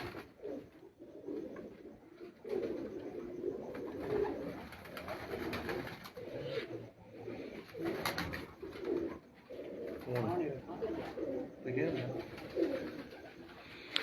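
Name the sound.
pigeons cooing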